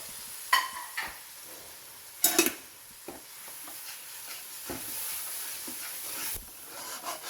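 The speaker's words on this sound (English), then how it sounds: "You have to mix it well." Spices being stirred into tomato sauce in a frying pan for beef keema, a quiet simmering sizzle broken by a few sharp spoon knocks and scrapes, mostly near the start.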